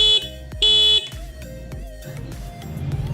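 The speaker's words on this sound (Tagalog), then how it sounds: "So kung gusto nyo nung rapid na style ng alarm, on nyo lang yung switch para dun sa rapid." A motorcycle's stock horn wired as an alarm sounds in rapid style, giving loud, sharp honking bursts that repeat in quick succession, fairly close, with no talking over them.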